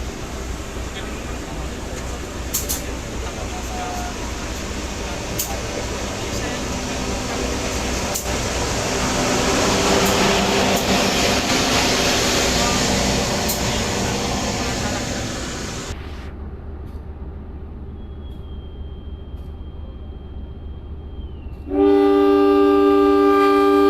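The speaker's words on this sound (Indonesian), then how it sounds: "Gajayana telah diberangkatkan dari stasiun Kepanjen" The Gajayana passenger train departs Kepanjen station with a steady, broad rolling rumble that swells and eases, then gives way to a sustained tonal horn-like sound near the end.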